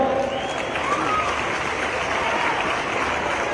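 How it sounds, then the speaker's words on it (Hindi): A large crowd at a political rally in Khargone applauds loudly and continuously, a dense wash of clapping and cheering that holds steady throughout. "इस पे एक बार फिर जोर से ताली बजाओ।"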